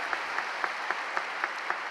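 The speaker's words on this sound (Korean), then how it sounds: "정회원증을 받으신 모든 분들께 뜨거운 축하의 박수를 다시 한번 부탁드립니다" A church congregation applauding new full members at a Christian businessmen's mission association worship service, a steady dense clapping with a light regular pulse throughout the short stretch.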